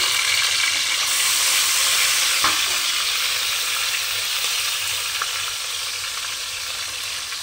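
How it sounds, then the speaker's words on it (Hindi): Garlic ginger paste with cumin frying in a hot pan while white chana is cooked, a loud continuous bright sizzle with a soft clink of stirring, close and heard alone. "मैं इसके अंदर सबसे पहले लहसुन अदरक का पेस्ट शामिल करूँगी"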